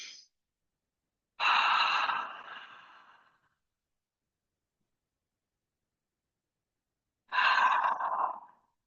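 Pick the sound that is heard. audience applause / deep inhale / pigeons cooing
deep inhale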